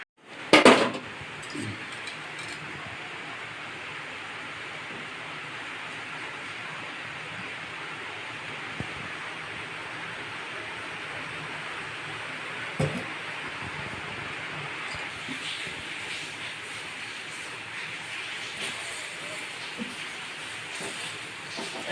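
Gulab jamun fry in oil on a low flame: a soft, even hiss runs for the whole stretch, opening with a brief clatter as they go in and broken by a few faint clinks.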